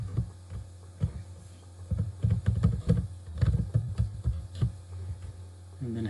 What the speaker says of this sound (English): And then we have to type up our password.